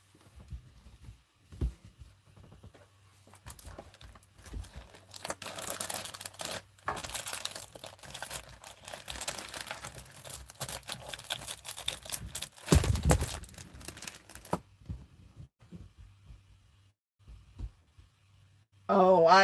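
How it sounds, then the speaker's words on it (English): Paper or card crinkles and rustles up close as a drawn pattern is cut out for a Dollar Tree Christmas floral box centerpiece, in irregular bursts with a short louder scrape near the end. "So now I'm gonna just cut it out."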